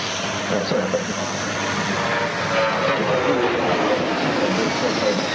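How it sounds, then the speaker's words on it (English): A C-17 Globemaster military transport passes overhead at the Australian International Airshow, a loud, broad, sustained jet roar filling the air while an announcer talks over it. "After a pass overhead from the Globemaster."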